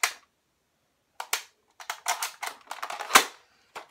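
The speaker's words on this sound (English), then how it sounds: "So I'm going to load up more shells" Shells are loaded into a Buzzbee double-barrel toy shotgun blaster, producing sparse, sharp plastic clicks and snaps up close, with a cluster of quick rattling clicks in the middle and a louder snap near the end.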